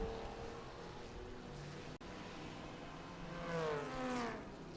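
A Chevy 350 small-block race car engine drones at a road-course race at Mid-Ohio, fairly distant and faint, with rising pitch sweeps as it accelerates near the end.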